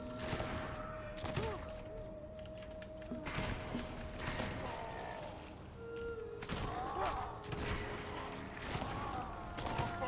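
Gunfire and dying orc cries from combat in the video game Goldbound, a steady mix of rapid shots, thuds and creature grunts layered over continuous in-game background sound.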